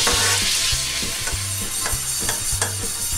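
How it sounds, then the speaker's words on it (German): An iron frying pan is scrubbed with a sponge in warm water and dish soap, giving loud, close, rhythmic scrubbing strokes that repeat steadily, with no voices. "Das machen wir natürlich mit warmem Wasser und mit Spülmittel."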